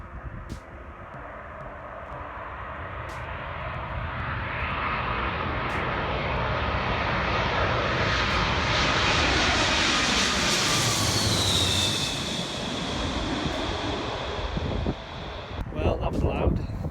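A Boeing 747's engines roar loudly as it passes close overhead, swelling to a thunderous peak and then fading, with wind buffeting the microphone.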